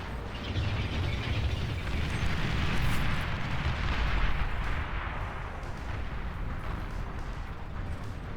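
Bombers unleash a barrage of explosions in the strategy game Beyond All Reason, with a crash-landing bomber among them: a loud, dense, continuous rumbling of blasts that swells slightly midway and never lets up.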